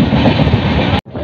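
Vande Bharat Express nearing Ajmer, a loud, dense onboard rumble with wind buffeting that runs steadily, drops out abruptly near the end, then resumes more quietly.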